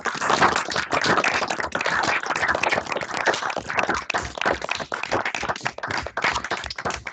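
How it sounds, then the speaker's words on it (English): Participants in an online meeting clap together through their microphones to say goodbye, a dense, uneven patter of hand claps that runs for about seven seconds at a fairly close level. "I think we could all switch on our mics and clap and say goodbye"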